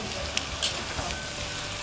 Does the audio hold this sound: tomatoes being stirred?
yes